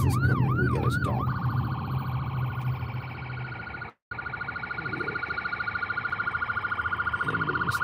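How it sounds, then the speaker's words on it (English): Ambulance siren approaching while a rideshare driver pulls over: a loud wailing siren sweeps up and down, then shifts into a fast steady yelp, heard over road and engine noise and close by. "Ambulance is coming, we gotta stop."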